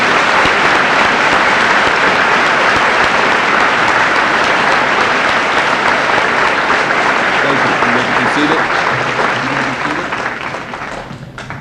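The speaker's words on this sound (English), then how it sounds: "Let's give this Blackney family a great round of applause." Sustained, dense applause fills a high school senior assembly hall as the audience claps for the Blackney family, staying loud and even before thinning toward the end, when a single voice speaks over the fading claps.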